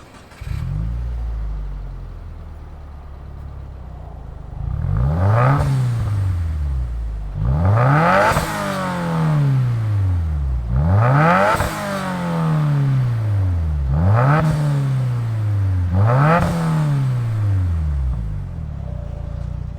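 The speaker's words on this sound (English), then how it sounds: "let's fire this up and hear that STI performance tuned catback exhaust" A 2016 Subaru WRX Limited revs through an STI performance catback exhaust, starting at idle and then giving five or six sharp, loud, close blips that climb and fall back, each separated by a brief idle.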